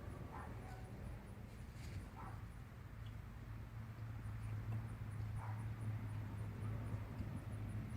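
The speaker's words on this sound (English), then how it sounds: "Sandy, what are you barking at?" A dog barks faintly in the distance a few times, as short separate barks over a low outdoor background hum.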